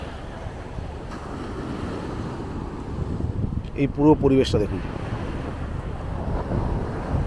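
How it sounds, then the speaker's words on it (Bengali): Strong seaside wind blows steadily at Henry's Island, Bakkhali, with a rough, continuous rush throughout. Someone speaks briefly over it midway. "দুর্দান্ত হাওয়া দিচ্ছে।"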